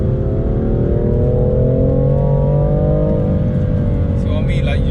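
A BMW M Competition car takes the bends of a winding country road, its engine note rising smoothly then easing, a loud, close cabin hum under heavy low road rumble.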